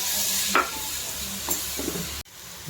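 Tomatoes and spices being stirred into a frying pan for chicken curry, with a steady sizzle and a few scraping stirs of the spoon, close and alone with no talk.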